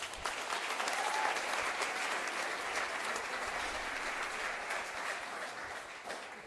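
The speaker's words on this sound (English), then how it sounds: "let's give him a round of applause" An audience gives a round of applause for the head coach at a high school college signing event, a steady, even wash of many hands clapping that carries on for several seconds.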